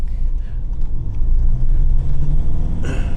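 Land Rover 110 with an automatic gearbox accelerating on the road, a loud steady low engine rumble from inside the cabin that swells under throttle, with a brief rustle near the end.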